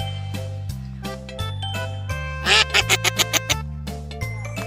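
A duck quacks in a quick run of six or seven short, evenly spaced bursts, set against a bouncy musical backing.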